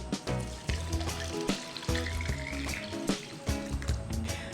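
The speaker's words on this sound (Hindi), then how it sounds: "तो चावलों को पहले धो लूँगी।" Sella rice being washed by hand in a bowl of water, with repeated rhythmic swishes and sloshing pulses as the grains are rubbed, close and moderately quiet.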